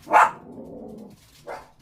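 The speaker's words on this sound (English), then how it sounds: "And there are those Yorkies barking." Yorkie dogs bark nearby: one sharp yap, then a low rumble, then a second, softer yap.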